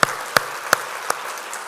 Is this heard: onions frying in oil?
no